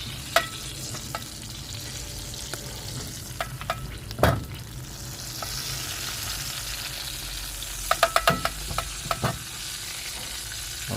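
Jamaican jerk fish sizzles steadily in a frying pan, with several sharp clacks and scrapes of a utensil turning the pieces, close and without talk.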